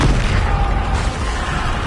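Booming explosive blasts of the Bombarda spell in Hogwarts Legacy, a dense, loud, continuous rumble of bursts filling the whole moment with no pauses.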